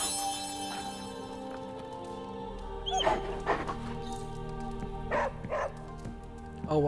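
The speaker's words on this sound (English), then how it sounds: "Good little dog." A small dog in the Marvel's Midnight Suns video game gives soft yips and whimpers over quiet ambient game music. It makes a few short, brief bursts at low volume.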